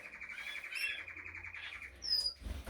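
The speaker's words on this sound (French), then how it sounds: "ça chante pas mal. Les oiseaux ont l'air d'être en bonne forme." Canaries singing in a breeding aviary, a fast trilling warble with rolled notes and a few high sharp chirps, then a low thump near the end.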